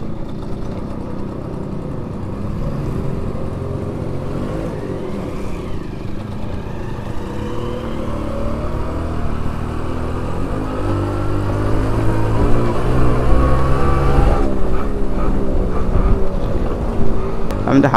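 A manual-gear vehicle is driven along a road, its engine droning and rising in pitch as it speeds up, with the noise growing louder toward the end. No one talks over it.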